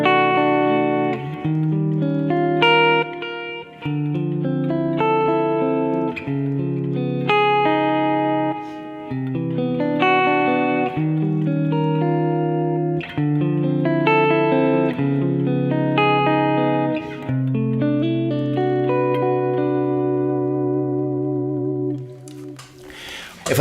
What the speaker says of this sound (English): every time I dig in, then the delay disappears, and every time I play very subtle or let the chord rings, then the delay shows up